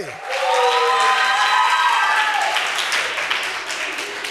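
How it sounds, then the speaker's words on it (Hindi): A hall audience at a naat recitation competition at the Punjab Arts Council in Gujranwala applauds the girls who competed, with loud, dense clapping and cheering that starts sharply and runs steadily before easing slightly. "इनके लिए भरपूर तालियां लगा दे।"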